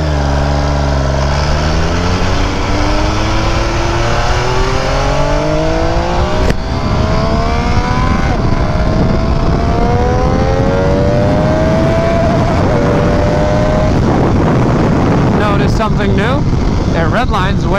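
An MV Agusta F3 RR motorcycle engine revs hard and loud, its pitch sweeping up repeatedly through the gears with brief dips at each shift, close by and continuous.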